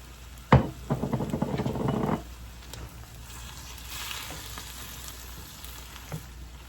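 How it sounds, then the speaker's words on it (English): Shrimp sizzles in a pan with Worcestershire sauce after a sharp clatter, crackling loudly for a couple of seconds and then easing into a softer, steady fry with occasional stirring knocks. "it don't take long for your shrimp to cook"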